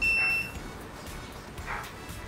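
The timer on a heated parts cleaning tank is set, used to clean a Dell'Orto FRD34b carburetor. It gives a short, bright electronic beep at the start and a fainter beep later, over a low background hum.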